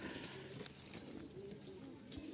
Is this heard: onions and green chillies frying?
no